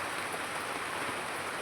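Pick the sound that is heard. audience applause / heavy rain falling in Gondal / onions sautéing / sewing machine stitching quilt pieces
heavy rain falling in Gondal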